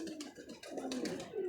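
Soft pigeon coos from a pet female pigeon, a few low murmuring calls close by over a steady background hum.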